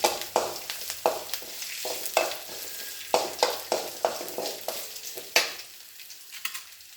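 Crushed garlic sautéing in hot oil for a spinach-style greens stir-fry, giving a steady close sizzle broken by repeated scraping stirs at a fairly even rhythm, with no voices.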